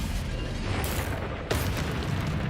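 Spell blast from Confringo cast in the Hogwarts Legacy video game, a dense roaring burst that swells and then hits with a sharp crack, loud against a continuous rumbling game soundscape.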